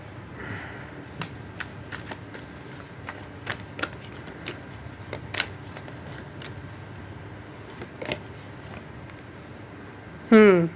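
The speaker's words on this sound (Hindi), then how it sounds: "कार्ड्स निकाल लेती हूँ" A deck of cards is shuffled by hand during a card reading, producing steady soft riffling and scattered sharp flicks over about ten seconds, with faint speech at times and a louder riffle burst at the end.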